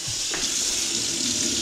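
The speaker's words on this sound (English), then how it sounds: "Now we just need to rinse the rice a few times." Cold tap water runs steadily into a pan of rice being rinsed for a chickpea curry, a continuous close splashing hiss with no talk.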